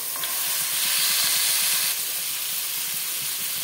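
Chicken added to a pan of fried spice masala with tomato, sizzling in a loud, continuous hiss up close with faint stirring underneath.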